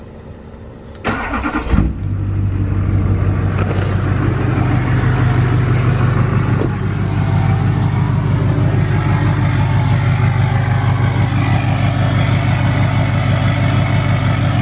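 Lifted Duramax diesel truck starting up with a sharp crank, then settling into a loud, steady low engine rumble as it pulls away, close to the listener, with no talking.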